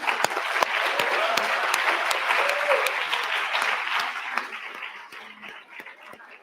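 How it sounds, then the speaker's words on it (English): An audience at a commemorative event gives a sustained round of applause, dense clapping filling the room and then gradually thinning out and fading. "I want to give them a round of applause"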